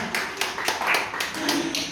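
Children clapping their hands together at an elementary Sunday school lesson, a series of sharp irregular claps that repeat across the moment, fairly close and moderately loud, with faint voices mixed underneath.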